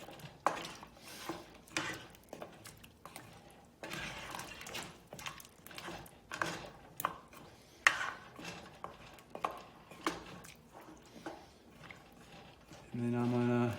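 Yam cubes being stirred into goat meat pepper soup in a pot, with repeated scraping and clinking strokes of a spoon against the pot in an uneven rhythm, close and moderately loud, with a voice speaking over them.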